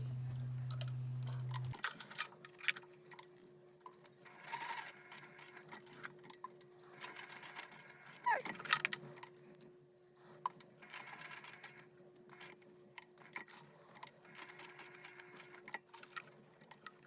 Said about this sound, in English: Secure with another X box stitch.